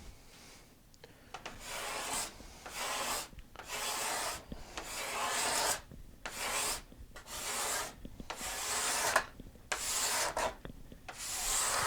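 Hand scraper worked across the joined wood seam on a steel-string guitar back, giving repeated rasping strokes in a steady rhythm, close and fairly quiet, with short pauses between passes.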